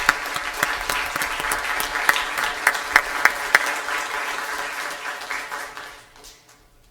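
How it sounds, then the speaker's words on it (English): Applause for a student leader fills a school board meeting room, a steady crowd of clapping hands with a few sharp louder claps standing out, fading away toward the end. "So let's give him a little round of applause."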